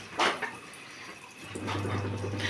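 Water runs from a tap into a washing machine, a faint steady gush that swells louder halfway through, with a low hum and a couple of soft knocks before it.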